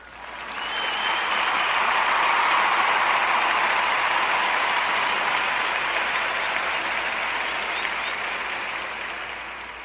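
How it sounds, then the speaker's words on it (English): A crowd claps steadily for police officers at a Gwinnett County community event for children, dense and sustained applause that swells, holds for several seconds, then slowly fades. "So I want to give our officers and a round of applause"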